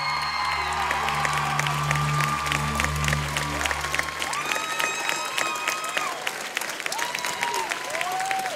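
A studio audience at a talent show bursts into loud, sustained applause with cheering and whoops, a dense wash of clapping that overlaps the fading end of a sung song and continues steadily to the end.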